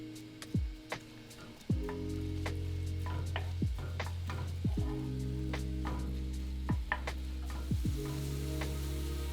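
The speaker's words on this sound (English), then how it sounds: "And we're gonna let these sizzle" Continuous crackling sizzle of shallots frying in olive oil, punctuated by several metallic clanks and scrapes of a utensil against the pan.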